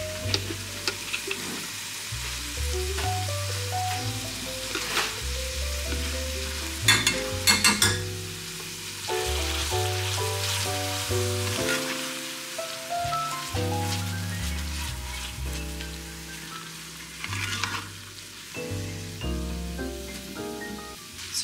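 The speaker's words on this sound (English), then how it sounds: "So now that we have our garlic in there and our onions sauteed" Garlic and onions sauté in a pan for an Indian butter chicken, giving a continuous sizzling crackle with occasional stirring scrapes and clatter while music plays underneath.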